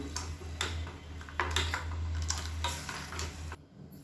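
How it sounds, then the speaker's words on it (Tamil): A spoon stirs tomato curry in a pot, giving repeated scraping and clinking strokes against the metal, close and moderately loud, with a low steady hum underneath and no talking. "கலந்து விட்டுக்கலாம்."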